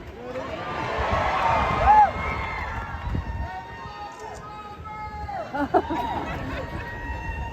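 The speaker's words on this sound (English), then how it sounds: "Man, what a beautiful crowd." A concert crowd cheers and whoops in a loud, reverberant swell with whistles and shouts, then fades into murmuring and scattered calls.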